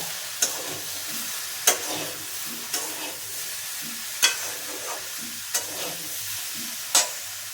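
Prawns added to a hot frying pan with vegetables in a home kitchen, a steady low sizzle broken by sharp, evenly spaced stirring scrapes about every second, no voices.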